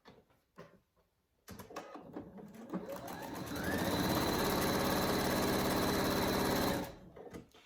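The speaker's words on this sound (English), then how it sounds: "I'm going to sew straight across the top" A sewing machine revs up and runs in a steady, close mechanical whir as it stitches straight across the folded tops of fabric mitten pieces, then stops abruptly.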